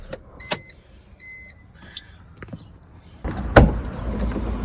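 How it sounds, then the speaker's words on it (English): BMW E46 325xi sunroof motor whirring closed in short electric bursts with faint clicks inside the car, followed by a louder thump and rumble. "the sunroof is on, so just gonna make sure that's closed"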